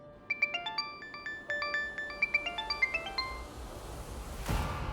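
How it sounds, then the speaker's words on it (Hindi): A mobile phone ringtone plays a bright electronic melody of quick, repeating chimes, moderately loud, ending with a short noisy rustle as it is picked up. "फोन उठाओ, उसी प्रोड्यूसर का कॉल है।"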